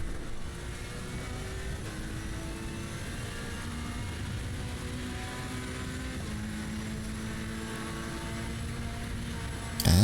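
Race car engine in a racing video game, a steady droning whine climbing through gears as it accelerates to the finish line, continuous and moderately loud, with no voices.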